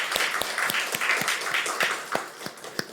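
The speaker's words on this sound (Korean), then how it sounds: "여러분 큰 박수로 한번 격려해 주시기 바랍니다" A church congregation claps in a short, fairly light round of applause, with individual claps distinct and irregular against a soft background murmur.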